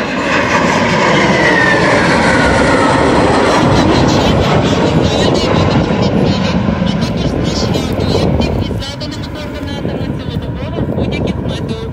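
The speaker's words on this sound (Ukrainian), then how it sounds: "Виконує демонстраційний політ пара Су-25." A pair of Su-25 subsonic armored attack jets makes a demonstration flight at a military exercise, giving a loud, continuous roar that stays steady and dips slightly near the end, with a voice talking over it.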